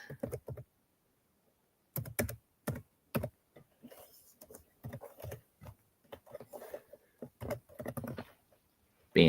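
Bursts of quick clicking keystrokes on a computer keyboard come in irregular clusters separated by pauses, close and fairly quiet.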